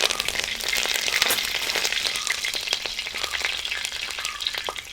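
Whole spices such as cardamom, cloves, cinnamon and mace frying with curry leaves in hot oil for chicken mappas, a steady dense crackling sizzle with sharp pops throughout, close and alone.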